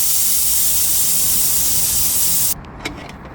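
A pressure cooker cooking rice vents steam through its whistle in a loud, steady hiss that cuts off abruptly after about two and a half seconds, leaving a few faint clicks.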